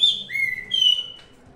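A male blue-black grassquit (tiziu) near its newly hatched chicks gives a few clear, close whistled chirps: a high note, a longer lower slide, then another high note, with no one talking.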